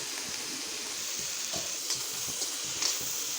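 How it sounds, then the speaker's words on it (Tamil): Capsicum sautés in a pan, a soft continuous sizzle with light scrapes and taps of stirring, faint and close, with no talk. "கேப்சிகமும் கொஞ்சம் வதங்கட்டும்"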